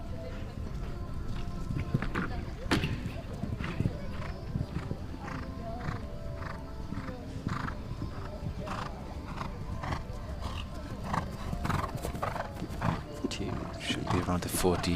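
A horse's hooves thud and clip-clop at a steady rhythm during a show jumping round at the 2021 Reonet FEI World Cup qualifier, with an announcer commenting over the sound.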